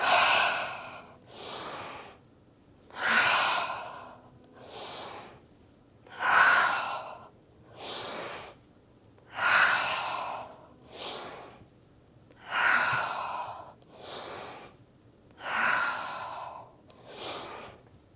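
Slow, deep breaths during a beginner hatha yoga session, with about ten long, even inhales and exhales in a steady rhythm, close and clear with no talking over them.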